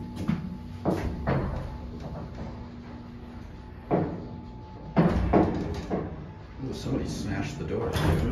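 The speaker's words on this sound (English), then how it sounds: "The door." A gated Reliance service elevator door in a Chicago building opens or closes with several heavy mechanical thumps and a rumbling slide, set against a steady hum, with people talking nearby.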